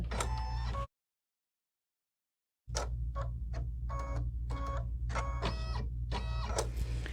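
An embroidery machine stitches a pineapple placement line on a tote bag, a close rhythmic mechanical ticking and whirring that pauses for about two seconds before resuming its fast repeated stitch pattern.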